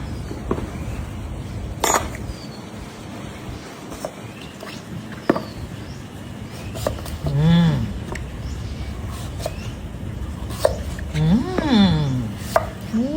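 A knife chops vegetables for a Thai sour curry (kaeng som), giving scattered sharp cutting taps at close range while people talk intermittently.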